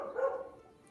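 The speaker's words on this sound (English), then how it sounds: "And that dog barking could be" A single dog bark, brief and moderately loud, with a short fading tail and no talk over it.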